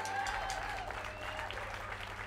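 An audience at a live blues band show at The Fallout Shelter applauds, a dense steady wash of clapping with a faint tonal hum from the stage underneath.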